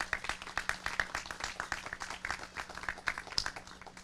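Audience applause at an outdoor playground dedication ceremony, a steady patter of many hands clapping together for about four seconds at moderate distance, with a faint voice underneath.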